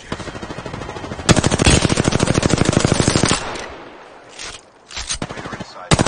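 Automatic weapon fire in the Apex Legends video game: a loud, close, rapid stream of shots lasting about two seconds, then a quieter pause and a few shorter bursts.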